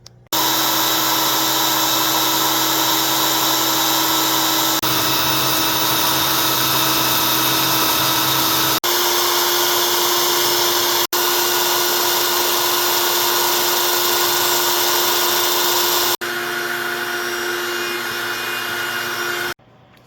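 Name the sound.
CNC machine cutting motorcycle exhaust brackets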